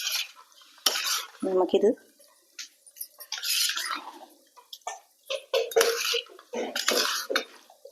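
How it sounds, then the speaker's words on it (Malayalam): Thiruvathira puzhukku being stirred in a pan with curry leaves and coconut oil: a spoon scrapes and clatters against the metal in short bursts, while people talk over it. "നമുക്കൊന്ന് ഇളക്കി യോജിപ്പിച്ച്"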